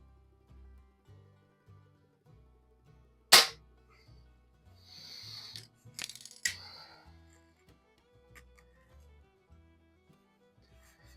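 A .177 spring air rifle, a Feinwerkbau 65 or Weihrauch HW70, fires one sharp, loud crack, followed later by a cluster of smaller mechanical clatters. Faint background music plays throughout.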